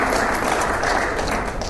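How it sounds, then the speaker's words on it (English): An audience applauds at a state university budget presentation to the Oklahoma Legislature, a dense, even patter of many hands clapping from start to finish. "We can applaud."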